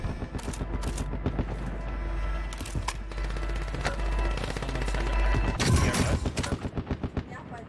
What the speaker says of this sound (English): Shooting below us.